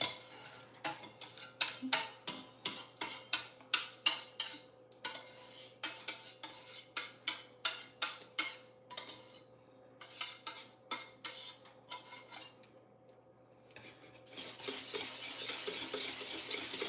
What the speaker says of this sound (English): And then you whisk it together.